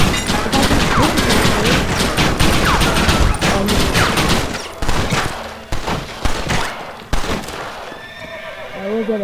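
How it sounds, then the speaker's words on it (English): Rapid gunfire from enemies during a fort raid in Red Dead Redemption, dense volleys and shots mixed with horse whinnies and hooves, loud and chaotic, thinning into scattered shots before fading. "Why are they all shooting at me?"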